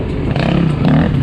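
Sherco dirt bike ridden at a demo day, with a short, loud, close engine drone and rattling clatter from the ride, rising slightly in pitch toward the end.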